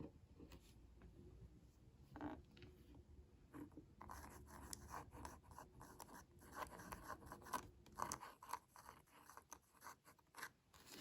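A Bluedew flex fountain pen nib scratches and scrapes across Rhodia grid paper in close, faint strokes, with irregular rhythmic rasping that grows busier over the course of writing.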